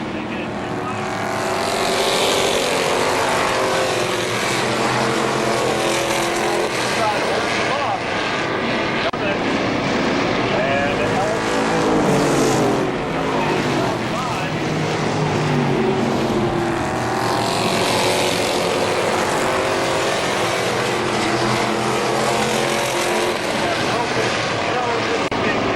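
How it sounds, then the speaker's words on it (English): Late model race cars roar around KilKare Speedway in a continuous loud engine drone, swelling as the pack passes, with an announcer calling the race over it. "Now Mike Miller takes a look to the high side of Ron Lewis down the back stretch"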